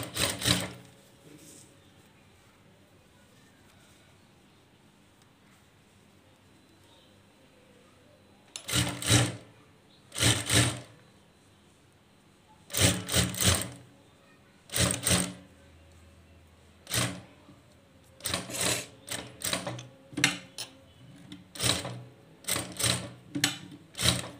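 A sewing machine stitches kinari lace onto a blouse back neck in short bursts of rapid mechanical whirring, separated by quiet pauses and coming more frequently toward the end.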